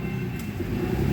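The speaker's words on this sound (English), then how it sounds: "there's the train there." A train passing at a distance outdoors, heard as a brief, steady low rumble with no other sounds over it.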